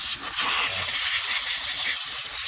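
Carburetor cleaner spraying onto small engine parts from handheld gas-powered equipment, a steady close, loud aerosol hiss running unbroken throughout.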